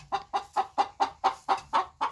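A chicken clucks close by in a quick, even series of about nine short, sharp clucks, with nothing else heard around it.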